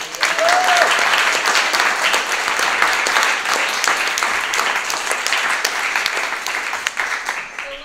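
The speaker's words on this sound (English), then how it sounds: "everyone should really give a big applause to Sibeli" An art panel audience applauds with sustained, dense clapping that fills the room steadily for several seconds, with a brief vocal sound near the start.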